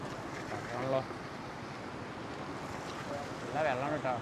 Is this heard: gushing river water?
yes